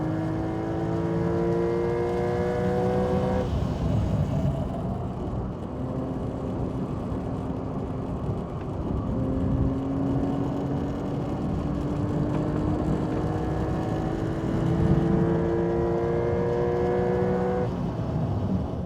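A 2025 Porsche 911 at speed on a race track, its engine note climbing and dropping through gear changes with steady harmonic whine and road roar, close and continuous throughout.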